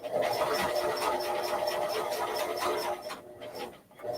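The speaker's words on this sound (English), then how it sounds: "So I'm sewing in reverse mode, no problems." A sewing machine stitching a leather strap in reverse, a fast, steady mechanical whirr and needle chatter close by that slows and stops near the end.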